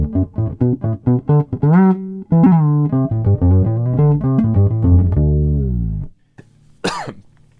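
Fretless bass notes ring out in a steady phrase, then fall silent before a single sharp cough bursts out close to the microphone, followed by a faint breath.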